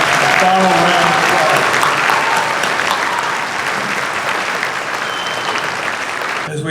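A banquet audience applauds the four 2026 inductees at a high school alumni hall of fame centennial awards event, with dense, sustained clapping filling the room for the whole stretch and fading slightly toward the end.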